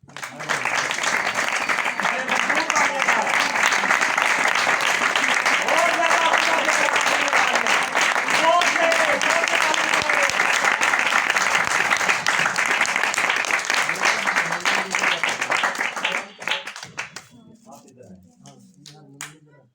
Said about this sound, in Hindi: अपनी भरपूर तालियों में वेलकम करें